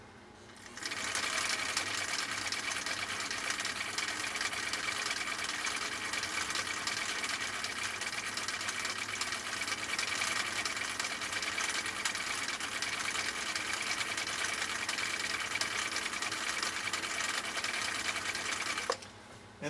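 A restored 1959 Husqvarna Viking CI-21A sewing machine runs steadily through a decorative cam stitch pattern, a fast, even mechanical whir and needle chatter, close and continuous for nearly twenty seconds before stopping.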